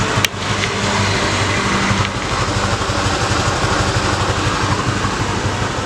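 Honda Vario 125 scooter engine running up close, a steady loud buzzing idle with rapid rhythmic pulsing throughout.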